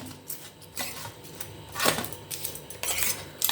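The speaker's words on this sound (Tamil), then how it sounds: "இந்த சம்மந்தியில் இதை கொட்டி மிக்ஸ் பண்ணிப்போம்." Ingredients mixed into an onion and chilli chutney in a kitchen bowl, with scraping and clinking of a utensil against the dish in a few loud bursts, close and without speech.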